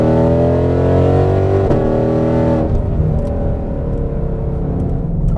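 A Ford Shelby GT500 sports car engine, 760 horsepower, roars loudly at high revs, then abruptly drops off to a lower, rumbling idle-like growl.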